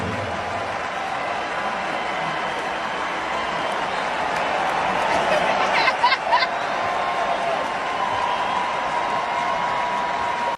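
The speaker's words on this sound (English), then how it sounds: "I'm trying to figure out why the crowd is going wild. Why is everybody cheering?" Arena crowd at a Lakers versus Knicks basketball game, a dense steady roar of cheering and babble with scattered applause swelling briefly near the middle, with voices mixed throughout.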